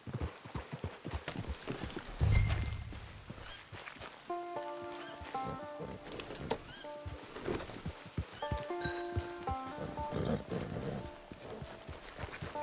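Steady clip-clop of horse hooves trotting at an even pace in the video game Red Dead Redemption Online, with tonal game music chiming over the footfalls.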